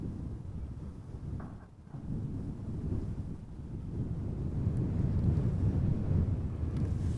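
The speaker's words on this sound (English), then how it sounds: "Also seems that the wind is picking up a little bit." Gusty wind buffets the microphone at Amsterdam Schiphol Airport, a steady low roar that swells stronger toward the end with no voices present.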